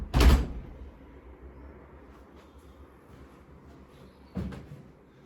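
An interior door of a house on Northcourt Avenue, Reading, opens into the inner hallway: a loud close thud at the start, then quiet room tone, then a second softer knock near the end.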